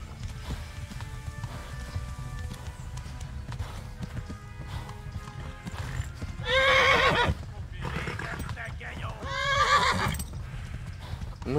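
Horse gallops and whinnies in the medieval game Kingdom Come: Deliverance, steady hoofbeats running under in-game noise with two loud, near neighs, while someone talks over the action.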